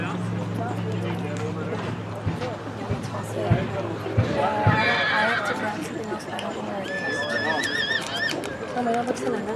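A horse whinnies repeatedly in the sale ring at a Morgan horse sale, several high neighs over hoof clops, crowd murmur and an announcer talking throughout.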